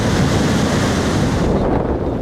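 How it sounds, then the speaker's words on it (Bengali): Rough waves churn in the Bay of Bengal during Cyclone Yaas, a loud, dense roar of surf and rushing water mixed with heavy wind buffeting, continuous and close for a short burst. "ঘূর্ণিঝড় ইয়াসের প্রভাবে উত্তাল বঙ্গোপসাগর।"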